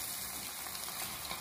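Hot cooking oil sizzles in a pan ready for frying squid, a faint, even hiss throughout with no distinct pops.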